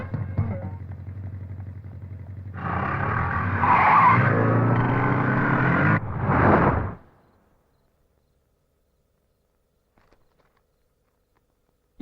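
A motorcycle brakes hard to a stop with its tyres skidding, a loud scraping screech lasting a few seconds over engine noise, then cutting off into near silence.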